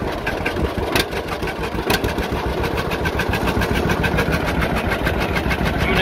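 A John Deere AR tractor engine runs at a steady, throttled-up rumble with rapid regular firing pulses while plowing, close and loud throughout, with no talking.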